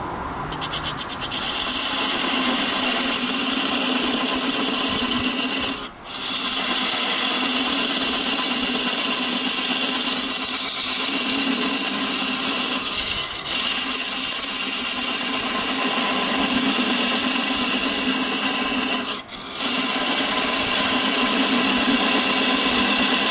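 A parting tool cuts off a maple salt box spinning on a lathe. The steady scraping, rubbing cut runs on without a break, with a few brief dips where the tool eases off.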